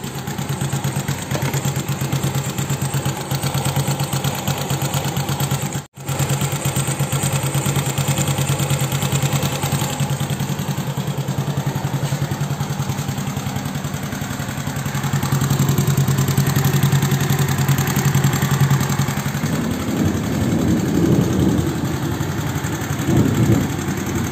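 A Honda Beat carbureted scooter engine idles close up in a steady, even putter for the whole stretch, with a brief dropout early and a slightly rougher, louder patch in the later seconds.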